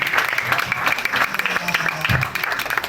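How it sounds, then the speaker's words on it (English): Audience at a literary reading applauds with steady, dense clapping, close and fairly loud, while voices talk and call out over it. "You hear that applause?"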